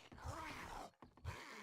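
A zombie in the survival game 7 Days to Die groans in a low, throaty moan from a nearby back room, two rising swells broken by a short pause, with no talking over it.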